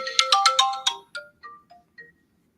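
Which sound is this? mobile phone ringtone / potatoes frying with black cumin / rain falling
mobile phone ringtone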